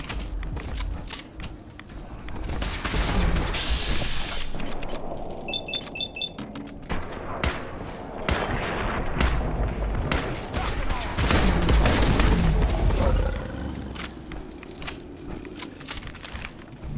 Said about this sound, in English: I didn't start shooting.